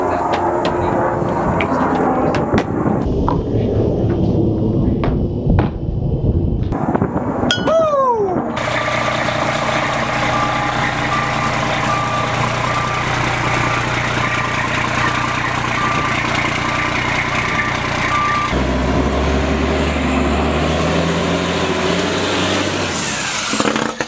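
Straight-piped fire truck engine starts with a few loud clunks, then runs at a deep, steady idle, rumbling close and loud for over fifteen seconds before the tone drops lower near the end.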